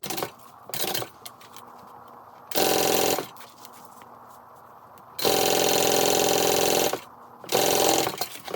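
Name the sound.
sewing machine basting zipper tape on handbag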